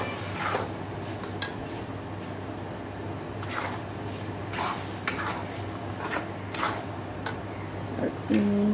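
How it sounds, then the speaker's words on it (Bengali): Food is stirred in a sizzling pan, a spoon scraping and knocking against the metal in irregular strokes over a constant frying hiss. "আর ভালো করে নেড়ে নেবো"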